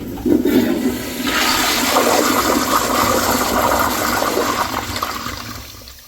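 A 1.6 gallon Crane Placidus wall-mounted toilet flushes with a loud, close rush of water that swells quickly, holds for several seconds, then tapers off as the bowl refills.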